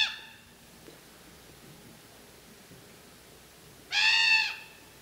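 A raven gives two quick, harsh warning calls, one at the start and one louder burst near the end, separated by quiet outdoor background hiss.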